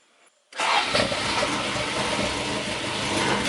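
A Toyota Corolla AE86 drift-build engine, newly fitted with an alternator and battery, cranks briefly and fires into a loud, steady near-field idle that holds with no talk.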